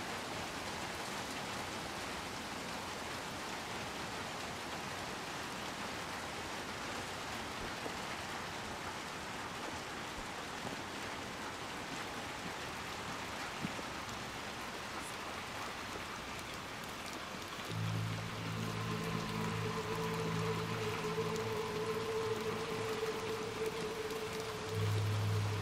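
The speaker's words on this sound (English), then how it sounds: "Look at the rain hit the rocks" Steady rain pattering on rocks in the video game Little Nightmares II, a dense even hiss throughout, joined near the end by a low sustained drone and a higher tone.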